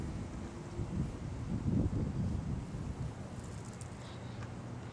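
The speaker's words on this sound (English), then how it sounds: "The wind's still going, I'm waiting on it." Wind blowing hard at an outdoor skate spot in bitter cold, a continuous low rumbling gust with microphone buffeting that swells in the middle and then eases, with no voices.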